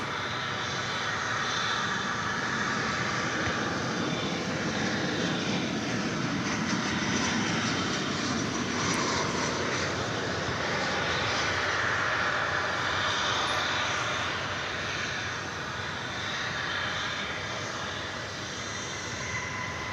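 American Airlines Boeing 737-800 jet landing at DFW Airport, a steady broadband engine roar sustained throughout at fairly constant loudness, with no voices.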